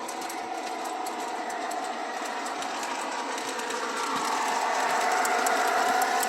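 A small motor whirs steadily with a rhythmic clicking over rails, like a model train running along its track, growing slightly louder as it approaches.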